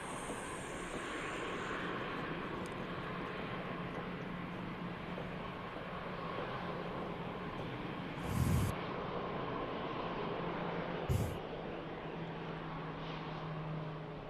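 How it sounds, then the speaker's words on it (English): An EasyJet Airbus A320 rolls out on the runway at Manchester Airport, heard as a steady distant engine roar and broadband rush, with two brief sharper bursts of noise partway through. "Rolling out here, the EasyJet A320."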